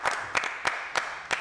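Hand clapping in five evenly spaced sharp claps, close and moderately loud, with quiet background in between.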